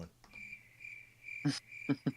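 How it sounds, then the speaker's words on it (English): Crickets chirp in a steady high trill, joined by a few louder, sharper chirps near the end, with no talking. "Crickets."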